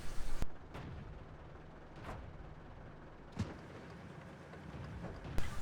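Artillery fire in World of Tanks, a few separate booming shots spaced a second or more apart, each a sharp crack with a short rumble over a quiet, low battle ambience.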